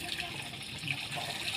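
Water being fetched and poured into containers, a soft continuous gushing and splashing heard faintly at a distance with low background noise.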